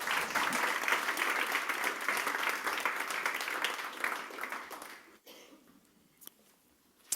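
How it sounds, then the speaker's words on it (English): A conference audience at a web design event claps to welcome a speaker, dense steady applause for about five seconds before it thins out abruptly into quiet room noise with a few stray claps. "So give him a big applause and a warm welcome."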